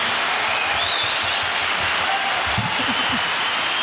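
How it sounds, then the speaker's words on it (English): A podcast studio audience gives a round of applause, a dense, continuous hiss of clapping heard loud and close throughout, with a few voices faintly audible underneath. "Let's give them a round of applause."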